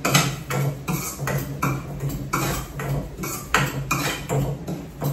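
Large colocasia (aluchi) leaves being sliced, their stems already removed, giving a steady run of crisp, regular chopping strokes about twice a second, close and moderately loud, with no talking.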